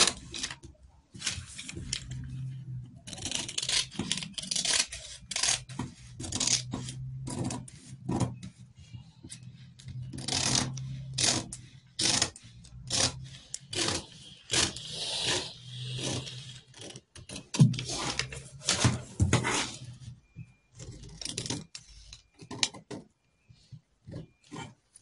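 Scissors cut through fabric for a straight long skirt pattern, making irregular crunching snips and rasping slides across the cloth that run close and fairly quiet, broken by brief pauses.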